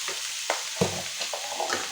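Potatoes and tomato fry in a pan, giving a steady, close sizzle with a few soft stirring knocks over a brief moment.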